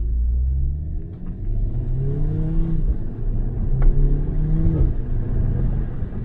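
A turbocharged Audi S3 engine revs and accelerates with a steady rumble, pitch rising in waves, with brief whooshing bursts from the blow-off valve as the turbo releases between throttle changes.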